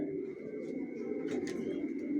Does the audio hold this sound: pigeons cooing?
yes